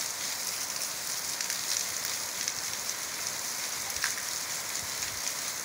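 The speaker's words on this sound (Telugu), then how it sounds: "చూడండి వర్షం ఎట్లా పడుతుంది" Steady rain falls over a village, a dense even hiss with scattered drop patter, moderately loud and continuous, with no voices.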